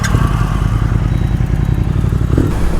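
A 2022 Triumph Thruxton Ton Up cafe racer riding along, its engine a loud continuous rumble with a clattering, buzzing texture under wind rush, close to the microphone.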